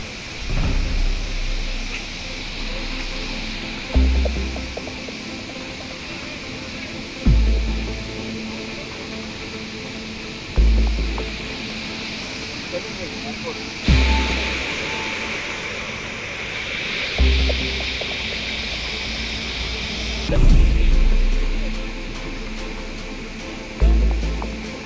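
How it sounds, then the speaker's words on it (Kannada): Abbi Falls at Yedur, Shivamogga roars in a steady, loud, broadband rush of falling water, with periodic heavier surges and low thuds from close by. "ನೀರಿನ ಅರ್ಪಟ ಜೋರಿದೆ ಇಲ್ಲಿ, ನೋಡುವುದು ಮೇಲಿಂದ ಬರುವಂತ ನೀರು"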